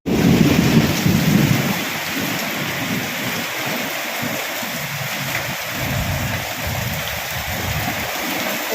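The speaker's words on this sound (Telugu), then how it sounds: "ఊర్లో వర్షం స్టార్ట్ అయ్యిందో ఫుల్ వర్షం అనమాట" Heavy village downpour with strong wind roars steadily and loudly throughout, a deep rumble of thunder swelling at the start before the dense rain noise carries on alone.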